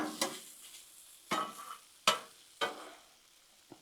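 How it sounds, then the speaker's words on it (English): Sausage and shrimp frying on a Blackstone griddle, quiet sizzling broken by four or five sharp scraping stirs of a spatula against the hot flat-top, close by and without talk. "Stir our sausage up."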